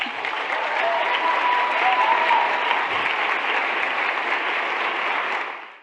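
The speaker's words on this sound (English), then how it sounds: "You see the people cheering." An audience at an advocacy event claps and cheers in one steady, dense roar that holds for about six seconds, then fades at the end.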